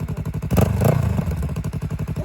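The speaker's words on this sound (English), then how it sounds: "Oh, look at her trying to rev it. Wow. Wow, Callie, you revved the bike" A Yamaha R3 motorcycle engine idles with a steady, rapid pulsing throb, then gets a short rev that swells briefly before dropping back to idle, loud and close with no talk.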